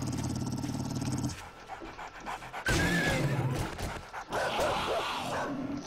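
A dog attacks in the video game 7 Days To Die, panting, growling and yipping close by in rapid bursts, mixed with thumps of the fight.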